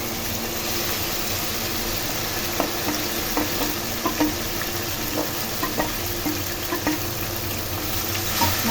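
Marinated okra frying in oil, a continuous close hiss of sizzling with scattered soft pops and crackles throughout, no voices.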